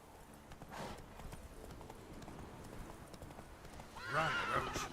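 Roach, a horse in The Witcher 3 video game, gallops with a steady clip-clop of hooves, then lets out a loud whinnying neigh near the end; faint voice sounds sit under it.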